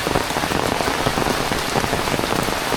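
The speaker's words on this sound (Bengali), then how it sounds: "পানিতে বাড়ি ঘর ভরে গেছে এত বৃষ্টি নামছে" Heavy monsoon rain pours steadily on a village, flooding homes, a dense, loud hiss of drops drumming on surfaces with no pauses.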